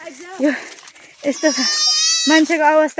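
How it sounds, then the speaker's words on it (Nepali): Goats bleat in a long, wavering cry on a steep hillside farm path, the call rising clearly through the middle of the clip while someone talks before and after it. "यता हाम्रा बाख्रा छन्।"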